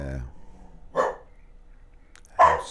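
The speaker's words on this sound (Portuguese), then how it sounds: "Esse cachorro não é fácil" A dog lets out two short, loud barks about a second and a half apart, with a faint murmur in between.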